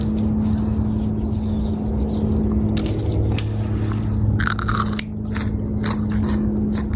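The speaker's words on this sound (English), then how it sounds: "They are very, very crunchy." Close biting into a crunchy fresh sugar snap pea picked in a backyard garden, a few crisp snaps and crunches over a steady low outdoor hum.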